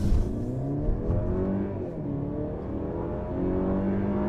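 2022 Mercedes-Benz C-Class turbo engine accelerating in normal drive mode, a loud steady interior drone with engine tones rising through the gears, a smooth continuous pull heard from inside the cabin.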